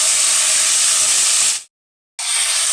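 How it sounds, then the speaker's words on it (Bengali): Marinated chicken dropped into hot oil in a pan, a loud continuous close sizzle and hiss that cuts out briefly to silence, then resumes. "এবার ম্যারিনেট করা চিকেনটাকে ফ্রাই করে নেব।"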